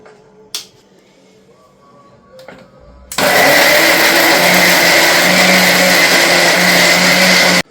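A kitchen mixer grinder blending spiced ingredients for drumstick aviyal into a smooth paste, starting after a few small clicks with a sudden loud, steady high-pitched whir that runs continuously and close.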